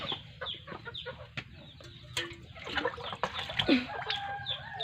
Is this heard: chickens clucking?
yes